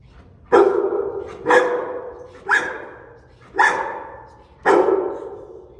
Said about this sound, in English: The robber was so afraid of Cowboy's fierce bark that he put his hands up and surrendered